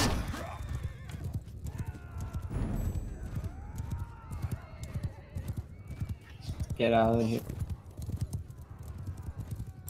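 Horse archers' mounts in Mount & Blade 2: Bannerlord clatter with galloping hoofbeats and a sharp whinny, mixed with battle noise while players talk over it.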